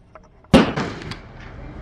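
A single sharp, loud gunshot goes off close by and rings out in a decaying echo, with faint clicks of handling the gun just before the shot.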